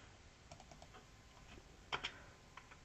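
Commands typed on an Amiga A600 computer keyboard, with faint, irregular key clicks spread across the clip and a couple of louder, sharper presses near the end, heard alone.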